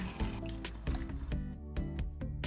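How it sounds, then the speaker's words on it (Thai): Water poured from a container into a bowl of raw market shrimp with salt, a short splashing pour with wet squishing and dripping close by, interrupted by a few sharp knocks of a wooden spatula against the bowl. "ใส่น้ำค่ะ"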